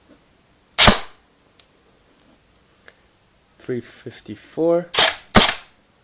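A Cybergun M249 SAW Para airsoft gun fires through a chronograph: one sharp crack early on, then two quick cracks near the end, close and loud, with someone speaking briefly between them.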